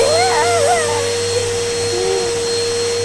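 A Hoover vacuum cleaner runs close by with a steady, loud whine and low hum, used on a young girl's hair at home, while a faint high voice rises briefly over it.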